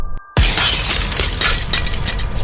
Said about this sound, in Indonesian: Dia pukul dengan sekencang-kencangnya cermin itu.